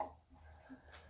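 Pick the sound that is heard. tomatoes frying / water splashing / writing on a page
writing on a page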